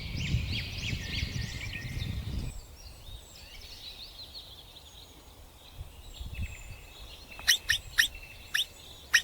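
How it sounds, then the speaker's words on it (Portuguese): Birds calling across open African country: a thin chorus of chirps runs over a low wash of background noise, ending in a few sharp, brief calls standing out near the end. "Os pássaros voavam em bandos, chamando uns aos outros no céu claro"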